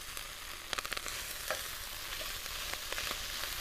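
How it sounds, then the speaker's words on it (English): Steady sizzling and crackling of kale stir-frying in a hot pan, with a few light scraping stirs, close and continuous. "this is a sort of stir-frying steaming method"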